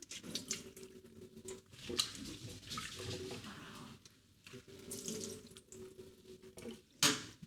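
Food being rinsed under a running tap, water splashing in uneven bursts that start and stop, with small drips and a brief clatter near the end, no talking.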